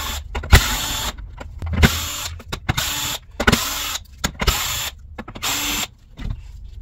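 Phillips screws being backed out of a Shark NV752 vacuum base plate by a power driver, with short repeated whirring bursts separated by brief pauses and clicks, close up and with no talk.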